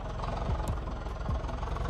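Modified tractor engines idle close by with a steady, throbbing low rumble and a faint rhythmic knock, heard alone without talk.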